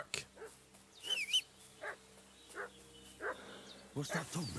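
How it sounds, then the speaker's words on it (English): Village dog in Kingdom Come: Deliverance 2, giving several short, fairly faint barks and whines in an irregular run, mixed with brief chirps and a low background hum. "What's that dog making such a fuss about?"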